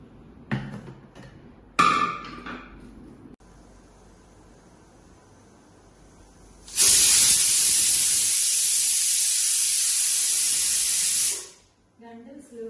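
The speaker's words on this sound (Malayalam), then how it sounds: "ആവശ്യത്തിന് വെള്ളം ഒഴിച്ച് കുക്കർ മൂടി വയ്ക്കുക. 2 വിസിൽ വരുന്നത് വരെ വെയിറ്റ് ചെയ്യും." A pressure cooker holding water on the stove lets off steam: a few clunks and knocks, a quiet pause, then a loud, sharp, sustained hiss lasting several seconds before cutting off.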